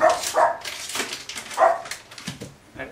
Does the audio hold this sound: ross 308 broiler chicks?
no